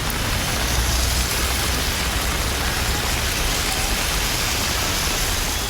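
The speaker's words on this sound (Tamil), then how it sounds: "புதுக்கோட்டை, திருமயம், அறந்தாங்கி, ஆவடையார் கோவில் உள்ளிட்ட இடங்களில் மழை கொட்டி தீர்த்தது" Heavy rain pours down steadily in Tamil Nadu towns such as Pudukkottai and Thirumayam, a dense, loud, unbroken hiss of downpour with no voices.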